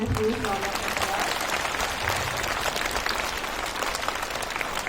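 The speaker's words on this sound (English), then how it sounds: "Let's give a huge round of applause." Sustained applause from a school assembly audience fills the hall at steady volume, with a low murmur of voices underneath at the start.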